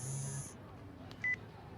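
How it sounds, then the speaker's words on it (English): A phone in the Chaos;Head Noah video game gives a short electronic buzz-beep, a brief tonal blip over a low steady background hum, following an earlier faint tone. "his phone buzzed"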